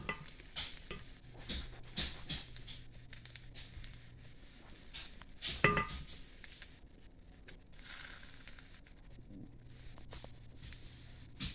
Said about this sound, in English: I'm going to spoon some of the batter right onto the oil